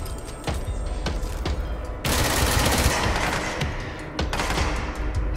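Rapid bursts of gunfire in the video game Control fire in quick succession, a dense, loud rattle of shots with heavier thuds mixed in, continuing for several seconds with brief gaps between volleys.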